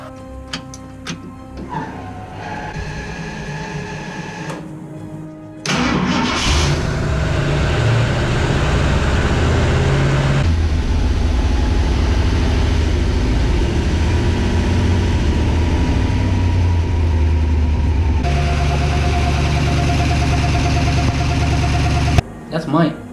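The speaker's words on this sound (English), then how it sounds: "starting the car" Ticking and clicking give way to a 1969 Ford Mustang engine with Holley Sniper EFI cranking and catching, then a steady low idle rumbling for a long stretch before cutting off.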